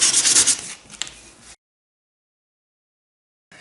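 Sandpaper is rubbed by hand over a metal part from a Stanley hand plane to take off sharp edges, giving a short, close scratchy rasping that stops abruptly and leaves silence.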